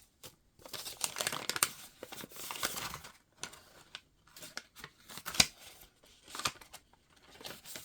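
Papers are shuffled and crinkled as hands rummage through a craft box, giving bursts of rustling and sliding separated by brief pauses, close up and fairly quiet.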